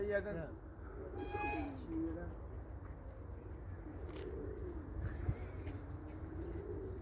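Racing pigeons cooing in a loft, a soft low cooing under steady background noise and occasional people talking nearby.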